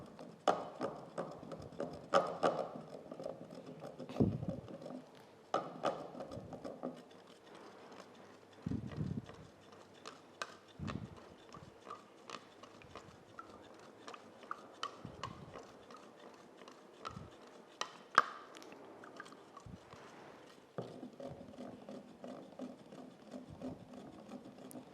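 Single-component water-soluble PU grouting material being stirred into water, producing repeated irregular scraping and clinking strokes close by, steady through the whole stretch with no talking.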